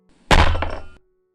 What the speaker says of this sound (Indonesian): Dia menggebrak meja cukup kencang.